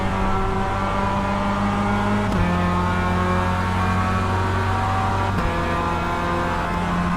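A Mazda MX-5 Cup race car engine in the iRacing sim drones loudly and steadily at high revs, with two brief gear-shift breaks as the pitch drops and climbs again.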